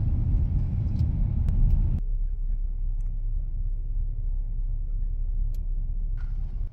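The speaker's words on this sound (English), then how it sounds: "We also cross I-40 as well, but there is a lot of traffic for some reason" Heavy traffic on the I-40 freeway, a steady low rumble of passing vehicles heard from nearby, loud at first and then slightly muffled and continuous, with no talk over it.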